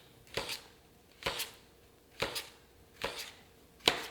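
A knife slices pieces off a piece of summer squash on a cutting board, five crisp separate cuts spaced about a second apart, close and clear with no talking.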